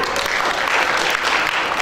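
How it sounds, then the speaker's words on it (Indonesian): Dense applause from a congregation at a church service, a brief continuous wash of clapping at fairly close range. "Tepuk tangan dong buat Tuhan."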